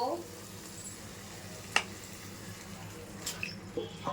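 Meat marinated in turmeric, oil and yogurt hits hot oil that has cooked out of the spices, giving a steady sizzle and frying hiss with a few small pops and clinks; a voice speaks over it.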